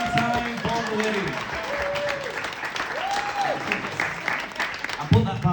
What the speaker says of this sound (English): Can we have a round of applause for Ollie for being on time?